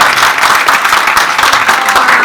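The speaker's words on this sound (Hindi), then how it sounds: "बहुत सारी तालियां, बहुत सारी तालियां।" Loud crowd applause at a gathering during a Hinglaj pilgrimage event, close and dense with sharp individual claps, sustained through the moment without talk.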